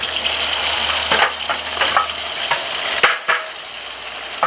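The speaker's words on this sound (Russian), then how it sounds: "Сейчас лук хорошо перемешаем." Onions frying in hot oil for Tajik plov, a steady broadband sizzle with several scraping stirs of a utensil in the pan, close and fairly loud.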